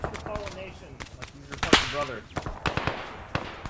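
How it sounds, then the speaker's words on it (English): Ammunition cooking off inside a burning T-34 tank in Arma 3 gives a run of sharp, loud cracks and pops at irregular intervals, with one big burst midway, while voices shout over the top. "T-34 cooked off!"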